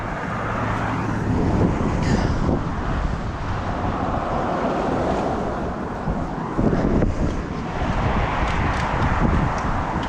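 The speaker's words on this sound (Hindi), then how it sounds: "और हवा चल रही बहुत तेज रात से आज" Strong outdoor wind blowing steadily since the night on a cold morning after snowfall, with trees swaying; a continuous broadband roar with gusty buffeting against the microphone, loud and unbroken throughout.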